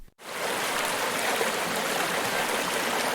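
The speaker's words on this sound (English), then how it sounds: "The sound of the water was loud and powerful, a constant roar that filled the air." A rushing river roars in a loud, powerful, constant wash of water that begins suddenly and holds steady throughout, with no voices over it.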